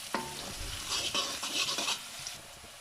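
Finely chopped onions frying in hot oil, a busy sizzle broken by repeated scraping stirs of a spoon against the pan, close and moderately loud, with no one talking.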